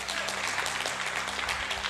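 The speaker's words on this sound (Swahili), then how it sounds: "Makofi kwa ajili ya shangazi yangu" A congregation at a church sermon gives a short, dense round of clapping for the preacher's aunt, loud and continuous throughout the brief moment.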